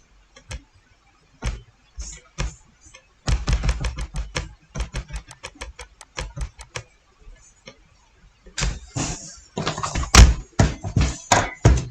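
Keys clack on a computer keyboard as a C++ program for adding two matrices is typed, coming in irregular bursts of quick taps separated by pauses, close and fairly crisp.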